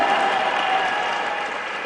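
A crowd of delegates at a political meeting claps in a dense, sustained burst of applause, fairly loud and steady, slowly easing toward the end.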